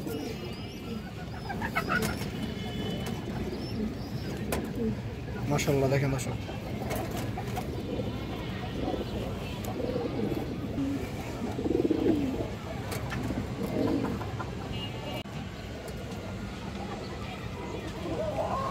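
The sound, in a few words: pigeons cooing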